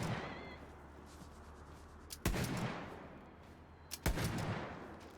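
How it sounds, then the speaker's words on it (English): Two sharp underbarrel shotgun blasts in Tiny Tina's Wonderlands, about two seconds apart, each loud boom trailing into a fading echo over quiet game ambience. "And then you've got the underbarrel shotgun."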